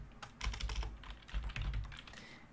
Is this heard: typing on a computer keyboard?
yes